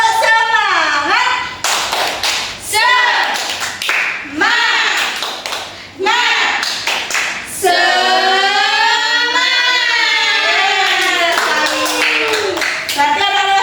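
Fifth-grade elementary school pupils in a classroom perform a rhythmic spirit clap, sharp patterned hand claps and taps in quick groups, mixed with loud children's group chanting and singing close by.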